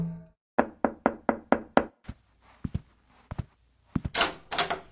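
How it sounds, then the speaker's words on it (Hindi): A door is knocked on in a run of six quick, evenly spaced raps, then a few scattered thumps and rustling follow, with no talking. "उसके दरवाजे पर एक नॉक होता है"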